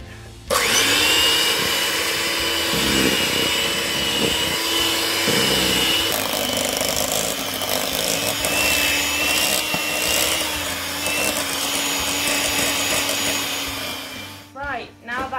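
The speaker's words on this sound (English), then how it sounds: "you can beat it a little bit more than that if you want, if you've got an electric whisker, beater" An electric whisk beats soft, slightly melted butter for a lemon drizzle cake, a close continuous motor whir with scraping and rattling against the bowl that cuts off just before the end.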